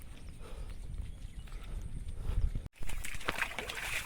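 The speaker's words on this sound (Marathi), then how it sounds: "बैल आता पुढे पुढे चालले" Bulls grazing walk with soft, irregular hoof thuds on rough ground, close by, over a constant outdoor wind-like noise that briefly cuts out.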